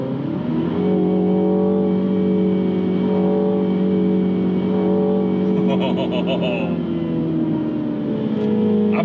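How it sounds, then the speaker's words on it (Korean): A MINI JCW accelerates with a loud, close engine and exhaust note, a deep baritone drone whose pitch climbs steadily, with no exhaust pops. "얘는요 그냥 기본 엔진음이 좋고 배기음은 팝콘은 안 터져요"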